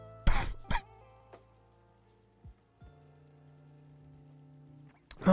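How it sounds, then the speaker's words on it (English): Coughing directly into a close microphone: two sharp loud coughs at the start, a few small mouth and throat noises with a low hum in the quiet between, then another burst of coughing at the end. "sorry again about coughing directly into the microphone"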